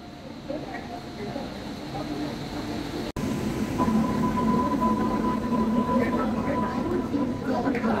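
Trains at Vasai railway station in India, with a steady rumble and a brief cut, then a sustained tonal whine rising over the continuous station noise, one train standing alongside as another is due.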